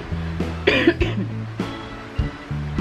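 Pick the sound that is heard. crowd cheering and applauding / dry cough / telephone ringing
dry cough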